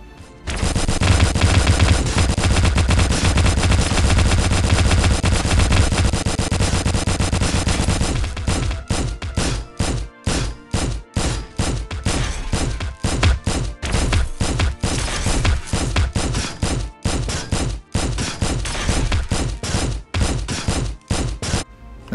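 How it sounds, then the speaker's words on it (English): Rapid automatic gunfire in a video game cuts down spawning robots, one continuous loud burst at first, then breaking into dense, stuttering volleys with brief gaps, with no speech. "The moment they spawn, I start shooting at them."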